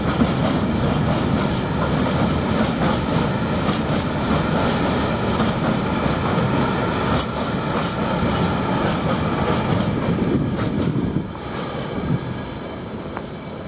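A freight train pulls away from Ely railway station, heading from the sidings toward Tungsten Sidings, with a continuous loud rumble and clickety-clack of wagons that drops off near the end.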